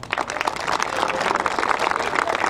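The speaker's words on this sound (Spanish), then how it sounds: "Un aplauso para ellos." Dense, lively applause from an audience at a children's awards ceremony for a youth tennis circuit, with many hands clapping quickly, close and loud, throughout the short stretch.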